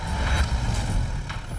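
A truck-sized vehicle rumbles low while reversing, with a faint repeating beep and a brief hiss riding over the engine for a moment, steady and fairly close, with no talking.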